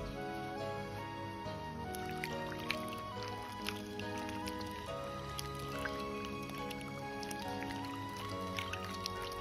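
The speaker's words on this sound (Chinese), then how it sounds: "倒入清水清洗干净" Cut winter melon pieces are washed in a basin of water, with soft splashing, dripping and sloshing and scattered small plinks over a steady background hum.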